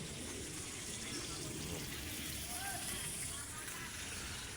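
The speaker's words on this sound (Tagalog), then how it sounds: "mainit na tubig lang ang nilalagay ko" Hot water poured over sambong leaves to steep as tea, a steady low gush of liquid running without pause under faint background hiss.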